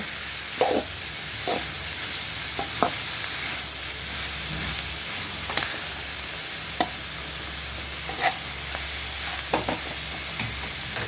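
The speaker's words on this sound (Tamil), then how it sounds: "நல்லா வதங்கட்டுங்க" Chopped banana stem sautéing in a pan for chutney, a steady frying hiss broken by repeated scraping and knocking of the spatula against the pan, close up, no voices.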